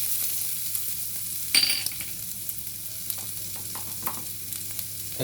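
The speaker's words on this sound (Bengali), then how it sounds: "এবার আমি রসুন চপ দিচ্ছি।" Chopped garlic drops into hot oil and flares into a sudden loud hiss, settling into a steady sizzle with a few light stirring clicks.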